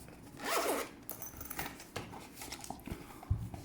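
A zipper on a large, smooth-surfaced PVC headphone case is drawn open in one quick, close rasping pull, followed by faint handling clicks and rustles as the case is moved.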